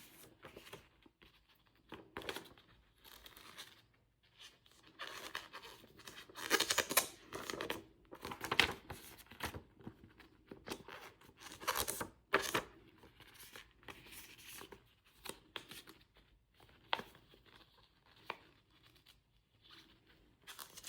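Paper snack labels for Welch's fruit snacks are folded along their seams, making soft crinkles and sharp creasing swipes in irregular bursts, close and fairly quiet.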